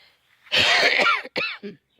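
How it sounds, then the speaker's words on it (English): A person with morning allergies coughs nearby: one long hacking cough followed by two shorter, throaty bursts. "Oh, my coughing, my morning allergies."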